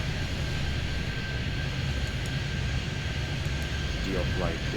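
Airliner taking off in the airport traffic control game Airport Madness 3D, a loud continuous jet engine roar filling the whole stretch with a faint steady whine on top, no speech.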